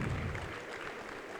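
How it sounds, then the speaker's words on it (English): Conference audience at a public health meeting in Nigeria giving a short round of applause, moderately loud at first and then thinning out over the brief moment. "A round of applause."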